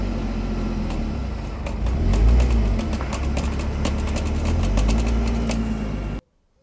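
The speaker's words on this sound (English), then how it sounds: "the car also started making some fairly hideous noises on full left lock when navigating through car parks. Sounded an awful lot like breaking twigs" Lotus Evora 400 on full left lock while manoeuvring slowly through a car park, giving a crackling, snapping noise like breaking twigs. Rapid irregular clicks ride over a steady low engine rumble that swells once mid-way, heard close and without talk until it cuts off.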